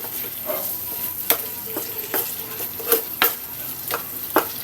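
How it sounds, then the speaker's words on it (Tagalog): Vegetables including string beans frying in a pan, hot oil sizzling continuously while a utensil stirs them, with sharp scraping strokes against the pan at irregular intervals, close and fairly loud. "Haluin natin."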